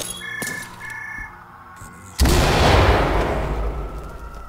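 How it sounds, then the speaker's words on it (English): A grenade tossed through a window detonates in the tactical shooter Ready or Not, a sudden loud blast that cuts through quieter game ambience and tails off into a rumbling decay. "I'm gonna throw a grenade through this window"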